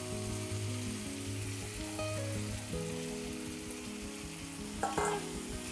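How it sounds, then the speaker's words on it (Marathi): Paneer cubes sizzle and fry in a masala gravy for paneer bhaji, with steady stirring and scraping in the pan and a louder clatter near the end; no one speaks. "हलवून घेते चांगलं आणि पनीर टाकून देऊया."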